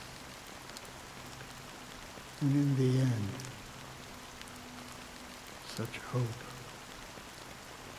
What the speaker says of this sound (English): Amidst the fine drizzle of black rain